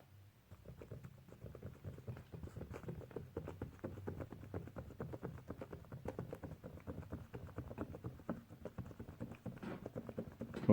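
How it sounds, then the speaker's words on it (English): Keys of a repaired Kurzweil K2500/K2600 Fatar TP-10 keybed pressed unplugged, giving a quiet, steady patter of soft plastic clicks and thumps played in quick succession, close and alone. "Here's the sound of the keyboard after drying overnight."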